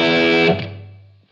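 A single distorted electric guitar chord rings out with a buzzy, saturated tone, then quickly fades away.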